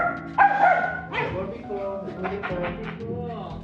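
A friendly young female dog yips, whimpers and barks in short, uneven bursts, close by and mixed with people chatting and talking over it in a casual indoor setting.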